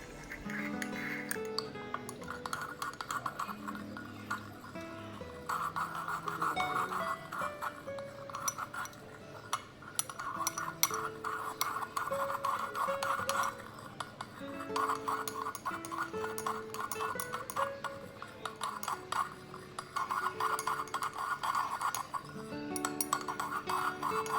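A utensil stirs melting extra virgin coconut oil lip balm ingredients in a glass container, producing steady light clinks and scraping taps against the glass, repeated throughout at close range with no speech.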